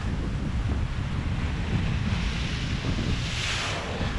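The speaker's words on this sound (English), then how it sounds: "it was relaxing to listen to the waves crashing up against the rocks" Waves break and wash against rocks in Ballyham Bay, Anguilla, a steady, full surf roar that continues without pause, with wind buffeting the microphone throughout.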